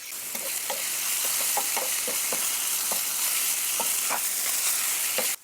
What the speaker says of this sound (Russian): Добавлю в сковородку немного растительного масла и выкладываю грибы.